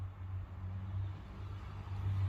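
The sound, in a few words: car driving by outside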